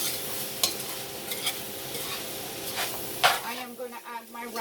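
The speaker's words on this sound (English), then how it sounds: "I will give it a stir." Beans stirred in a pot for beans and rice, a steady low sizzle with a few soft scraping strokes, quieting toward the end as a voice begins.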